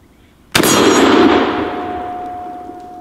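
A single loud Mossberg 500 shotgun blast hits a steel cowboy target, giving a sharp crack followed by a sustained metallic ring that slowly fades over a few seconds.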